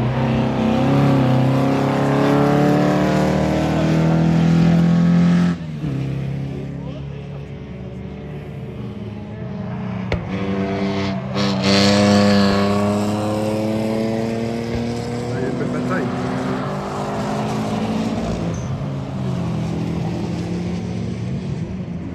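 Cars lapping a race circuit at the end of the day, their engines rising and falling in loud, sweeping tones as they pass. Voices talk over the steady engine noise.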